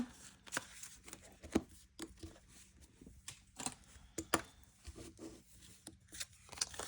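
Game cards from a road trip box challenge are shuffled and mixed by hand, making a close, quiet series of irregular papery flicks and slaps with uneven gaps.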